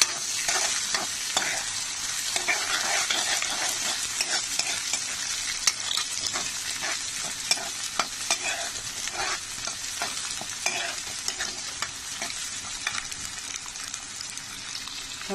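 Onion fries with green chilli, green peas and minced meat in a pan, giving a steady dense sizzle with frequent stirring scrapes and crackles throughout, at moderate loudness.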